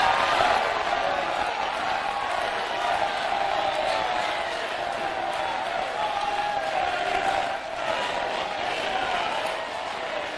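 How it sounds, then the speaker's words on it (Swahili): A church congregation shouts praise together in a sustained, loud crowd roar that swells and holds for the full stretch with little letup. "Give another shout of Bwana praise."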